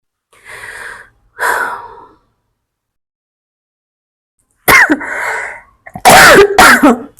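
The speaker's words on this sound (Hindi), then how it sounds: "मुझे खांसी है तो मैं अवॉइड नहीं कर सकती, मुझे खांसी आएगी तो मैं खांसूंगी।" A woman coughs in several harsh, close bursts. Two lighter coughs come first, then a pause, then a louder cluster of forceful coughs with gasping breaths.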